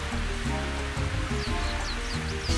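Rain falls steadily on the Toad Highlands course in the Mario Golf video game, a constant hiss of rain heard under tonal background music.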